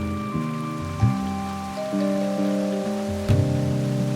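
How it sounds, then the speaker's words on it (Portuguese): Steady rain falls throughout, a soft continuous hiss beneath sustained low musical tones that shift pitch in steps, with no voices. "E chove."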